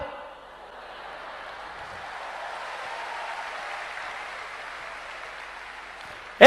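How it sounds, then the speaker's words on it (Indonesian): An audience at a church sermon applauds softly and steadily, a faint, even wash of clapping that swells slightly midway, followed by a brief loud thump at the very end. "Tepuk tangan, saya senang tepuk tangan"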